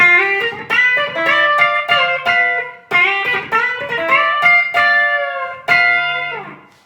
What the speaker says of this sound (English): So it's going to sound a lot drier now that I've turned it off.